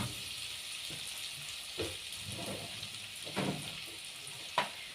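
Garlic sizzles steadily in a hot pan on the stove as it is stirred, with a continuous frying hiss and a few soft scrapes and clinks of the spoon against the pan. No one speaks.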